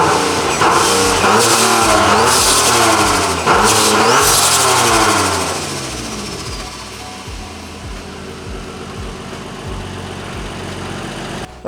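A single-turbo Nissan 370Z engine runs loud and close, revving hard early and then settling into a steady idle.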